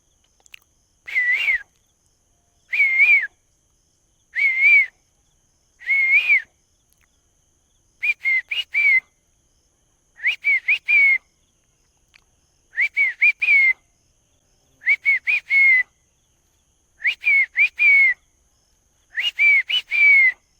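A voice imitates parrot calls: a series of about ten short, shrill whistled squawks, evenly spaced with pauses between, heard alone.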